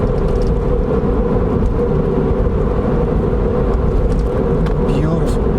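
Porsche 996 C4S with manual gear shifting, a steady loud engine and road drone running throughout with no clear pauses between gears.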